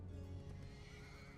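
A horse whinnies in a long, wavering neigh, fairly distant, with faint hoof sounds and background noise.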